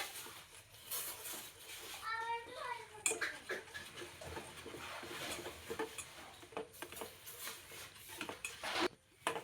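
Milk powder being mixed and its lumps crushed in a bowl, giving scattered scraping and clinking of utensil against the dish with some brief sharp knocks, heard under a steady background and occasional talking.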